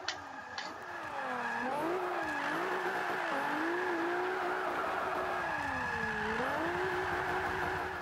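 A Honda S2000 drift build in Forza 5 slides with tires squealing steadily as the engine revs rise and dip through a drift and spin, loud and continuous after a brief quieter start.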